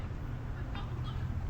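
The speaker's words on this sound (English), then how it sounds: "You can hear noises behind me. I think there's a bush turkey around there." A bush turkey calls outdoors near a waterfront parade in Redcliffe, Queensland, giving a couple of short, faint squawks over a steady low rumble of traffic and wind.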